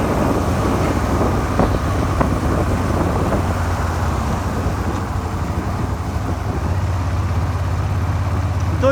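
A Suzuki SV 400 motorcycle with a knocking engine cruises in sixth gear at 60 km/h, a steady low engine drone under heavy wind rush, continuous and close.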